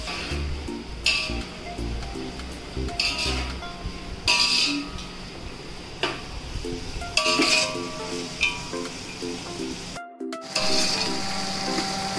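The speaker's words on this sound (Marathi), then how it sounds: "तर हा छान गोल्डन ब्राऊन होईपर्यंत फ्राय करून घ्या." Sliced onions frying in a pan for chicken biryani, a steady sizzle with occasional clinks and stirring of a utensil against the pan.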